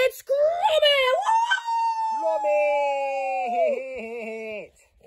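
Gromit the dog howling in long, sustained, wavering tones with strong harmonics, rising then holding steady and dipping at the end, loud and close amid a boxing-match setting.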